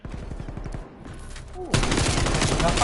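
Bursts of automatic gunfire from a Call of Duty competitive match, rapid repeated shots, then a louder, denser volley that continues to the end.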